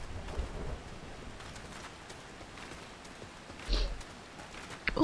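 Rain falls in Final Fantasy XIV: A Realm Reborn, a faint, steady patter with a couple of louder low rumbles, running quietly under the game's other sounds.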